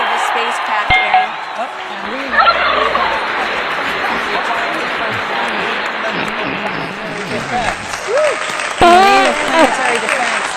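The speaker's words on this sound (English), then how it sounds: "I think you can see the crowd cheering down in Mission Control" Large crowd in NASA Mission Control cheering and applauding continuously, a dense roar of clapping and shouts with people talking and calling out over it.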